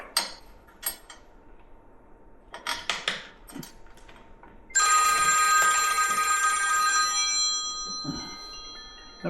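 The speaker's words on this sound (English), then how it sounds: "Of course I'm getting a phone call" A telephone rings with an incoming call, a bright sustained electronic trill that starts midway and runs for a few seconds, preceded by scattered metallic clinks and taps of work on a boat bow-mount trolling motor.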